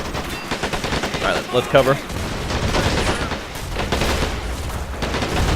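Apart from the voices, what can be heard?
gunfire and mortar fire in video game Men of War: Assault Squad 2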